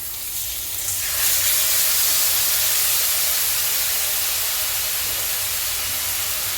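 A watery spice paste hits fried potatoes and pointed gourd in a hot pan, sending up a loud, broad hiss that swells after a second and holds steady as the liquid boils and steams.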